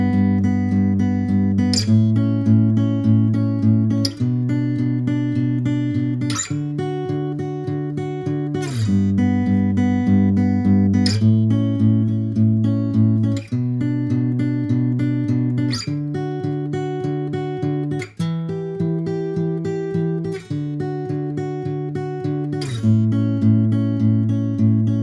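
Acoustic guitar fingerpicking the chorus of a song, a steady repeating arpeggio pattern with chord changes every couple of seconds, played solo, close and clear with no talk.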